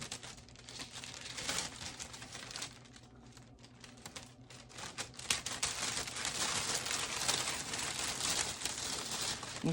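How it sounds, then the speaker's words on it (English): The plastic bag of a gift basket is cut open, producing continuous close crinkling and rustling of thin plastic with small snips and crackles, growing busier toward the end. "So what we're gonna do is cut the bag open at the top."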